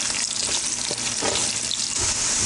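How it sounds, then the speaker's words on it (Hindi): Coarsely cut onions fry in a pan for egg curry, a loud, continuous close sizzle with soft crackles and a brief stirring scrape, with no speech. "हमें यहाँ पे ऑनियंस को लाइट ब्राउन करना है, ज़्यादा डार्क ब्राउन ना करें।"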